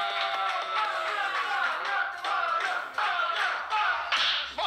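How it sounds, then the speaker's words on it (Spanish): Studio audience at a Yo Soy talent show casting gives a hearty burst of applause, dense clapping sustained for several seconds at close range. "un fuerte aplauso para mi amigo Fabián."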